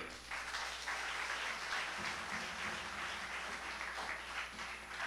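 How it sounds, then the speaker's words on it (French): A church congregation applauds a men's choir at a Sunday mass marking the choir's 17th anniversary, a steady round of clapping heard faintly from a distance, lasting the whole stretch. "Un applaudissement bien mérité pour ces soldats du ciel."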